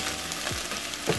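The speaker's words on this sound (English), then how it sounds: "So it's been a total of 3 minutes of it frying like that." Chicken and ingredients frying in a pot, a steady broadband sizzle with faint stirring clatter, close and continuous with no talking.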